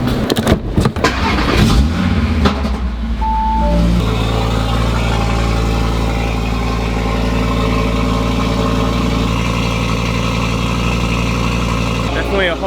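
A car engine cranks and catches in an enclosed underground residential parking garage, then settles into a loud, steady idle with a strong low rumble echoing close by.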